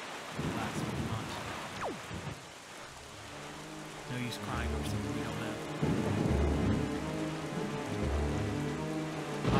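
Storm at sea in the video game Zelda Wind Waker: steady rain hiss with low thunder rumbles swelling toward the end, while a voice speaks briefly over it early on.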